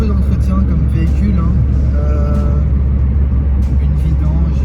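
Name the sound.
1989 Citroën AX car driving, PSA TU engine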